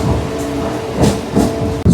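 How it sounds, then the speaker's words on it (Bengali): A local train on the Howrah–Digha line pulls out of Kanthi station, with a steady rumbling roll and soft rhythmic clacks of wheels over rail joints, heard from on board and fairly loud. "কাঁথি স্টেশন থেকে আমাদের ট্রেন ছেড়ে দিল।"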